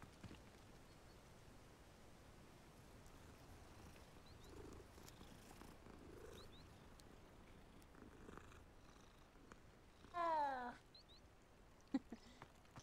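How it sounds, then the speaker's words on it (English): A cat in the video game Hogwarts Legacy purring while being petted, a faint, low, continuous rumble, followed near the end by a brief, louder meow-like call and a short click. "Can pet cats, 10 out of 10."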